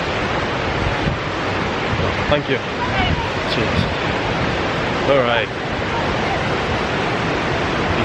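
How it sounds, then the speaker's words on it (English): The Golden Waterfall rushes loudly and steadily from close by, a dense, continuous roar heard alone throughout, with brief spoken thanks and remarks from people nearby. "Now we're by the waterfall."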